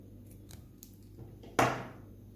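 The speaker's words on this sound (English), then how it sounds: "you take this yarn like that and then cut here at the bottom" Yarn being cut with scissors during crochet: after a few faint soft rustles, a single crisp snip rings out once, close and quiet overall.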